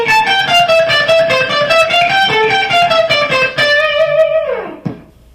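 Distorted electric guitar plays a slow line of wide interval skips, sustained lead notes in steady succession ending with a downward bend that fades out, with no voices.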